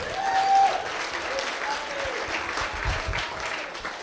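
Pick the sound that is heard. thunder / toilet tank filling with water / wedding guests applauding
wedding guests applauding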